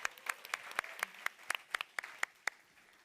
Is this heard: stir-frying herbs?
no